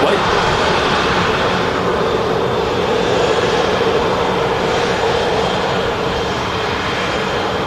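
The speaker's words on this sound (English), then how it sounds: "As the EasyJet vacates the Ryanair Max, is now able to cross the runway." Airliners taxiing on the runway at Manchester Airport, including an EasyJet jet and a Ryanair Boeing 737 Max, give off a loud, continuous jet-engine roar that holds steady at close range.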